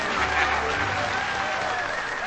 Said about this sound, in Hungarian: Tapsoljuk meg őket, gyerünk, gyerünk!